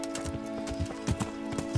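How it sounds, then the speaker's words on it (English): Horse hooves clop in a short, irregular run of soft thuds as a horse arrives in the medieval video game Kingdom Come: Deliverance, with a steady low tonal hum from the game underneath. "Come here, horse."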